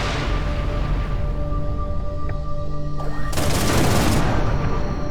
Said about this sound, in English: maybe use a corrosion missile